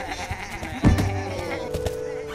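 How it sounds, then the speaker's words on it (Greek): A cartoon sheep bleats once, loud and close, amid a flock on a sheep farm, with other faint animal and background sounds around it. "Και αυτά εδώ είναι τα πρόβατα."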